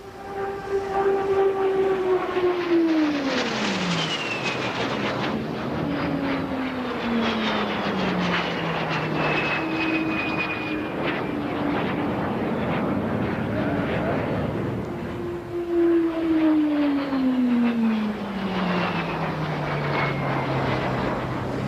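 A de Havilland Vampire jet roars past overhead at an air show, its whine sweeping downward in pitch as it passes, followed by a second long pass with a falling engine howl.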